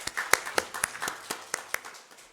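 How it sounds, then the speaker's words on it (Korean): A church congregation claps in blessing at a Salvation Army Christmas service, a sparse scattering of separate hand claps in an uneven rhythm, moderately quiet and heard alone. "여러분 함께 축복의 박수로 해주시기 바랍니다."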